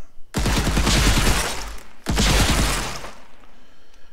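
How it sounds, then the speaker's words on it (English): Grenades thrown in a first-person shooter game burst in two loud, crackling explosions, each bang trailing off into a rumbling decay, about two seconds apart, with a quiet tail after the second blast. "the G button actually will throw a grenade"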